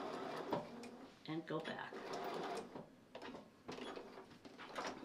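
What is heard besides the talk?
sewing machine stitching a hanging sleeve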